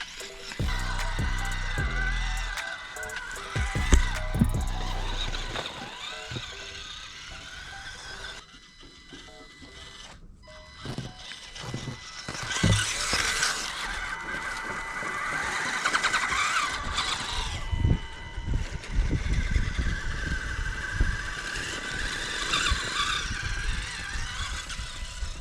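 A brushed-motor Axial UTB18 Capra RC trail buggy runs at top speed, its electric motor whining loudly and steadily, with bursts of rattling and scrabbling as it charges over rough ground.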